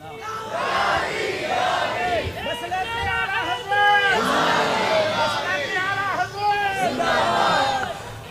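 A large religious gathering roars back in unison to a cleric's slogan, loud massed shouting that rises and falls in repeated waves, voices overlapping in a near, crowded hall.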